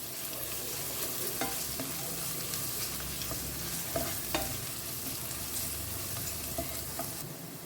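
Slit green chillies frying for chicken biryani make a continuous soft sizzle, with light stirring taps and scrapes scattered throughout at moderate distance.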